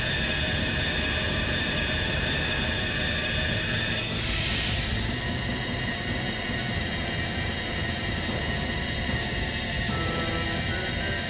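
Albior airship in flight in Tales of the Abyss, a steady loud engine drone with constant broadband rumble and a brief whooshing swell in the middle, no voices.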